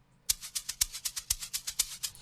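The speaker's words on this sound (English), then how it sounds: "So this is the first shaker." A shaker loop in an amapiano-style beat plays a quick, even rhythmic pattern of bright rattling hits, about a dozen strokes, close and clear.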